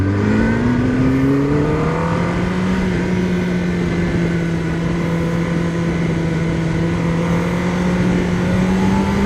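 A 2026 Kawasaki Ninja ZX-10R superbike revs hard while being ridden, its loud engine note climbing steadily with shifting pitch and a continuous, close roar that never lets up.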